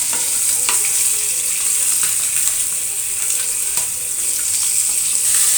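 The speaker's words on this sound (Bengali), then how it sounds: "এখানে মাছটা ভাজি হলে" Fish fries in a pan with a continuous bright sizzle and crackle, steady and close, broken by a few sharper spits and pops; no one speaks.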